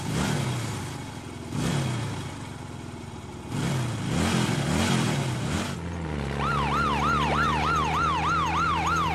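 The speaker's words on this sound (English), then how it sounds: "Fire truck." A fire truck siren starts as a wavering engine-laden rise, then settles into a loud repeating wail that sweeps up and down steadily over the roar of the vehicle's engine.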